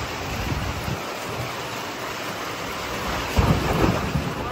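Steady rain pours outdoors in a dense, even hiss, with a brief louder surge of rumbling near the end.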